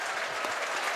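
Rugby league crowd at a Rovers home match against Widnes Vikings applauding a successful conversion, a dense, sustained roar of clapping filling the whole moment.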